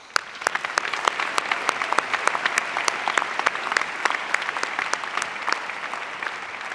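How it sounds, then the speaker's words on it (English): The graduating class of 2019 claps for themselves at a high school commencement, a lively, even stretch of many hands with crisp individual claps throughout, and no talk over it. "Give yourselves a round of applause"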